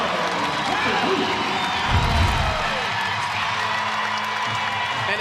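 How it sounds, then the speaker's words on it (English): Louisville home crowd at an NCAA women's volleyball first-round match roaring and cheering after a block, a sustained distant swell of voices with a brief louder burst, under a commentator talking. "listen to the roar of this Louisville crowd"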